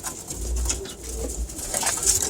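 Pigeons coo close by on a training board, low throaty rolling calls repeating over a short stretch, with light rustling and no talking.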